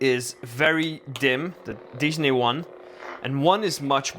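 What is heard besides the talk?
None of the usual background noises is heard.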